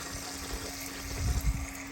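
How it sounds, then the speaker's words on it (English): Water runs steadily from a public tap in a quiet outdoor spot in front of a school on Chios, Greece, with a low gushing swell near the end. "Getting some fresh water here."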